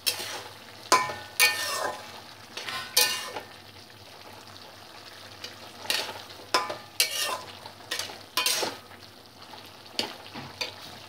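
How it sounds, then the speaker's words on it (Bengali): Sugar being stirred into thickened chana masala gravy in a pan, Punjabi-style chole: a series of scraping, sizzling stirs in short bursts, close and fairly quiet, with soft sizzling between strokes. "এবার আমি চিনি দিচ্ছি, এতে চিনিটাকে মিশিয়ে নেব"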